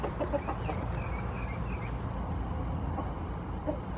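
Backyard chickens on a Florida Keys homestead cluck softly nearby, with a few short, scattered calls over a low steady background and no one speaking.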